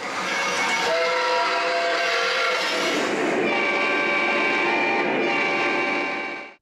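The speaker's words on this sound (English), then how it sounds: "one of my favorite features on O-gauge model trains, the whistle and the horn." An O-gauge model train whistle blows steadily with a layered, harmonic tone, pitch shifting partway through, accompanied by a continuous rumble of running train sounds.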